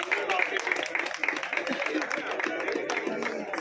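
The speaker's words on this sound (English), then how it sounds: "A big clap for him." An audience claps for a tour guide at the Qutub Shahi tombs, a dense, lively round of applause close by with voices mixed in.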